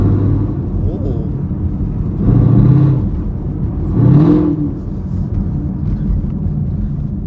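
A Chevrolet Camaro SS fitted with an LT2 engine cruises gently around town, its low engine rumble swelling twice with light throttle from inside the cabin, while someone talks over it.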